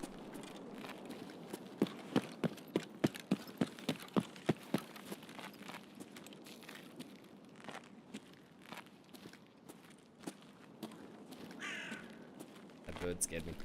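A bird in a video game caws sharply several times amid a rapid series of crisp footsteps, faint and distant, with a person talking over the game sounds.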